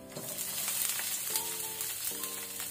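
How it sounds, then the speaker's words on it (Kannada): Browned garlic and a medium onion fry in hot oil in a pan for an okra side dish, giving a steady close sizzle with faint stirring scrapes and no talking. "ಈಗ 1 ಮೀಡಿಯಂ ಸೈಜ್ ಈರುಳ್ಳಿ ಹಾಕೋಣ, ಆನಿಯನ್."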